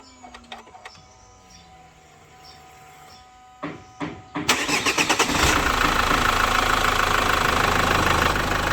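A 2011 Chevrolet Captiva diesel, hard-starting and smoky, cranks and fires up, settling into a loud, steady, close idle after a few stuttering turns.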